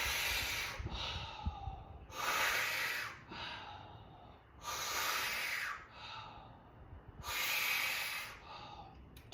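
Deep, slow breathing during a fascia stretching exercise, close and airy, with four long hissing exhalations alternating with softer inhalations in an even rhythm.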